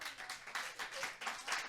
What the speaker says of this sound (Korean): 야유 박수 치지 말고